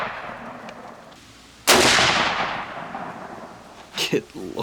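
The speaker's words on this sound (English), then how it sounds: "So we're gonna try to shoot it out of there." A single loud rifle shot fired to clear a stuck sabot from the barrel during deer season, a sharp sudden blast with a long rolling decay, followed by faint shuffling and a couple of brief knocks.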